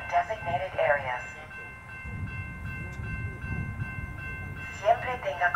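SunRail commuter train rumbling past a station crossing, a steady low roll with a held horn-like tone above it, while a recorded announcement voice speaks at the start and end.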